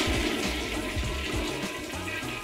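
A toilet in a house with ocean views flushes with a loud, rushing swirl of water up close, running steadily throughout with no voices over it.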